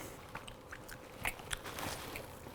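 Biting into and chewing a rustic, well-browned, leopard-spotted pizza crust baked in a Gozney Roccbox oven, with a few soft crunchy bites and moist chewing close to the mic, no talking.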